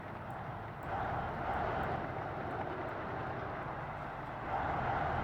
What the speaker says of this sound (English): The engine noises just sound like men cheering.